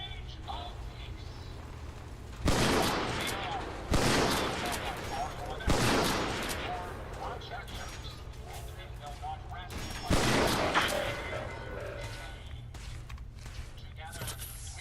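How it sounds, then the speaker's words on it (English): Shotgun blasts fired at robots in Fallout 4: four or five loud, separate booms spaced a second or more apart over a steady low hum, with a voice talking in between. "Alright, I'm gonna shotgun these robots again."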